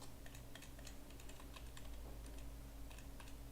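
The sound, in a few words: computer keyboard keys being pressed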